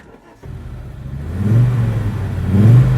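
A 1980s Audi quattro or Lancia Integrale engine rises from quiet into a steady running drone, with two swelling revs about a second apart, close and fairly loud.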